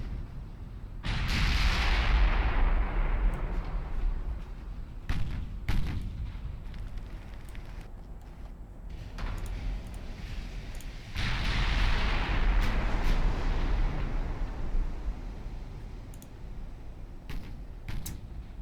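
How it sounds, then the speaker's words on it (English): Seven-inch naval guns fire in the Ultimate Admiral Dreadnoughts warship game, heavy booming salvos rolling out as several distinct shots with long rumbling tails, loud and fairly close. "Those 7-inch guns firing it"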